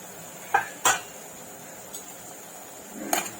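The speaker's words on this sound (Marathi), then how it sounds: "आपण आता झाकण खोलून बघूया" A metal lid lifts off a cooking pot of bottle gourd and chana dal: two sharp clanks close together, a faint tap, then a final clatter near the end, all close and clear.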